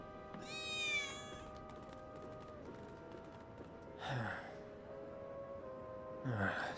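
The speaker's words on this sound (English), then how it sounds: "I think one of Betty's cats might be nearby." Several cat meows from one of Betty's cats in the Final Fantasy VII Remake video game, a drawn-out rising mew near the start followed by two shorter calls later, set over a steady ambient game music bed.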